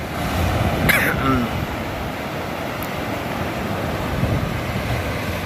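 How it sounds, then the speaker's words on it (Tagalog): Ocean surf washes onto the beach at a La Union resort in Aringay, a steady rushing wash with wind buffeting the microphone and brief voices in the background. "Talaga ang alon."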